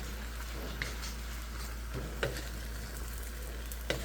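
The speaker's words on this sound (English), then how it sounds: "And then all those onions and tomatoes go in with it. And then just stir it all together." Browned meat, onions and tomatoes sizzle in a pan for lomo saltado, a steady crackling fry with a low hum beneath and a few soft scrapes as the mixture is stirred.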